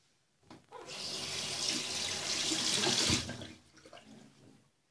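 Water runs steadily from a bathroom tap for a few seconds while a sponge is rinsed under it during a facial skincare routine. The gush is close and fairly loud, then cuts off, with no talking.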